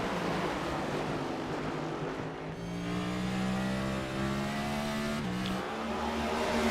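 NASCAR race cars at Irwindale speedway in a racing video game, a steady loud engine roar with rising and shifting pitched whine as the cars accelerate through the laps, continuous without voices.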